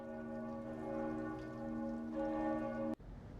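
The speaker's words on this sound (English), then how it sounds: "Church bells." Church bells ringing in Rome, a sustained chiming with lingering overtones that cuts off abruptly after about three seconds, leaving faint background noise.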